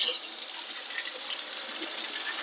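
Water gushing out of the pipe of a reverse osmosis filter on a main supply line, a steady close hiss of flowing water with no break or voices.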